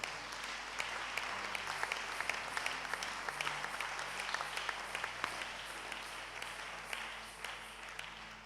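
Church congregation applauding steadily and loudly for several seconds, a dense continuous wash of many hands clapping with occasional sharper claps, no talk over it.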